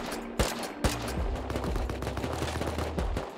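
Sniper and other gunfire in the survival video game Rust, with sharp shots standing out over a dense, continuous bed of rapid firing and battle noise.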